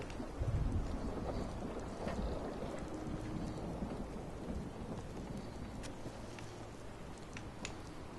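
Steady rain with low rumbling thunder in the video game Fallout 4 Far Harbor, a continuous soft downpour hiss with a deeper roll near the start and occasional faint crackles.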